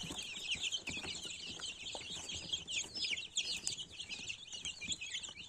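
Young chickens raised on a floor after the brooder cluck and chirp, a constant flock chatter of high peeping, faint and steady throughout with no one speaking.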